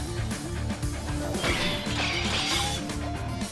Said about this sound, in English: The sword smashes against the armor, shaves it, letting off lightning sparks.